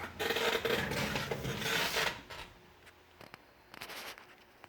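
Steady rasping of sandpaper scraping over a hard Eddie GT goalie mask for about two seconds, then a quieter stretch with a few scattered scuffs and light taps.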